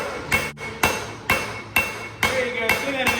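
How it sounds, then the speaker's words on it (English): Hand hammer strikes a rail spike being forged into a dagger blade, ringing metallic blows landing close and loud in a steady rhythm about every half second, seven or so hits. "There you go, see that hammer."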